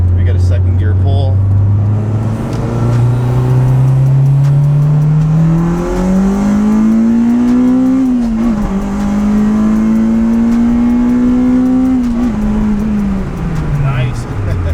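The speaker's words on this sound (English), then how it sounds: "We got a second gear pull." Honda Type R pulling hard in second gear, its engine note climbing steadily in pitch under heavy acceleration, easing briefly around a shift point, then rising again before dropping off as the throttle lifts; loud and close.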